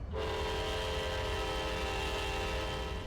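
A Union Pacific ES44AC locomotive horn sounds in a train simulator game, one long, steady multi-tone blast that holds loud and clear from start to finish.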